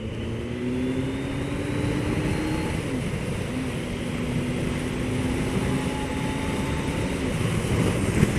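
A car pulls away from a T-junction in first gear, its engine giving a steady, close drone that rises gently in pitch and is overlaid by broad road and wind rush, with no voices.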